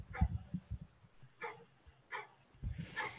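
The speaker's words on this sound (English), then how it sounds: "We got an upset dog." An upset dog barks in a handful of sharp, separate yaps spaced about a second apart, fairly faint and a short distance off.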